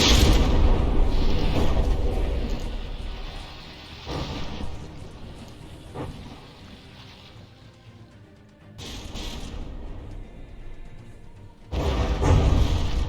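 Shells striking the front turret of the battleship Scharfschutze in From the Depths: heavy, rumbling booms and crashing impacts over a dense, continuous roar, swelling and dropping with sudden loud hits.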